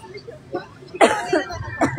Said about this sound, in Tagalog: Ubo lang ako, sorry.